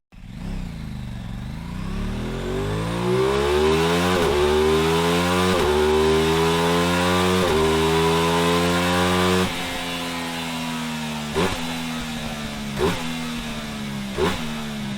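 An Aprilia RS660 motorcycle with stock exhaust revs up and holds a loud, rising exhaust note, then settles into a steady idle broken by several sharp throttle blips.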